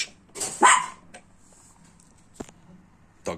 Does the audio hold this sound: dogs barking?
yes